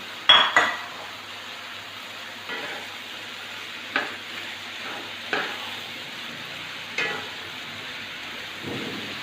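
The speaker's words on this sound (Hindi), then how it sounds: "अभी हम इसमें अपनी भिंडी जो है वो भी डाल देंगे" Okra goes into sizzling masala of tomato and onion in a pan: a loud initial clatter, then a steady, bright frying hiss with several spoon scrapes and clinks against the pan, no voices.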